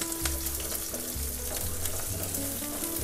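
Chopped onions added with green chillies to a hot pan for egg curry, a steady loud sizzle of frying, continuous and close, with faint clinks underneath.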